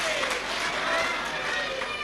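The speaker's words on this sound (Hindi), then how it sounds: "एक बार जोरदार ताली बजाकर उनका स्वागत करेंगे।" Audience at a live Shiv Mahapuran religious discourse in Bhilai clapping loudly in welcome, a dense, steady wash of applause filling the whole stretch with a crowd murmuring through it.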